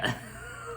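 One person clears their throat with a short rough burst, followed by a quiet pause and a second sharp throaty sound at the end.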